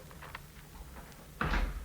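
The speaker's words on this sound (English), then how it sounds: "All right, Blake, you may close the door." A door closing in an old-time radio drama, a single firm thud with a short rattle near the end, heard alone after a quiet stretch.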